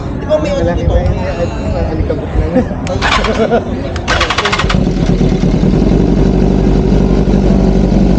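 A motorcycle engine idling during a sound check, a loud low rumble running steady throughout, with people chatting nearby over it and a brief revving burst midway.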